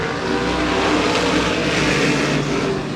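Modified stock cars race on the paved short track at Twin State Speedway in Claremont, New Hampshire, a dense, continuous roar of several engines at full throttle coming off the final turn, loud and sustained throughout.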